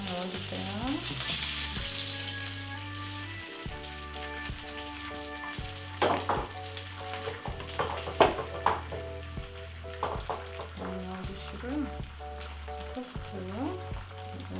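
An egg fries in melted butter in a pan for egg toast, with a steady sizzle heard under prominent background music.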